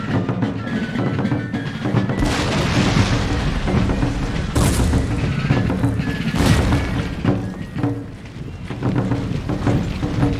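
Cannon fire from a Prussian artillery battery in the strategy game Empire: Total War, with dense booming blasts and crashing impacts that keep coming in overlapping volleys, loud and continuous, and a few very faint bits of speech underneath.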